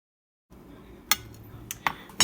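Plating up a vegan meal of dal, rice and fried okra: after brief silence, a low kitchen rumble carries sharp, scattered clinks of cutlery against dishes, several distinct metallic taps near the end.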